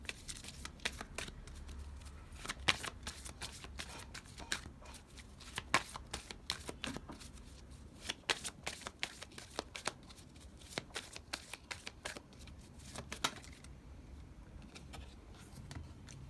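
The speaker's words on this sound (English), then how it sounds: "I'm gonna pull some angel cards now" Angel oracle cards are shuffled by hand for a tarot reading, producing quiet, repeated riffling snaps and papery flicks in an irregular rhythm across the whole stretch, close to the microphone with no talking.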